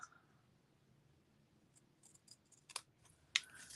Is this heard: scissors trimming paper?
yes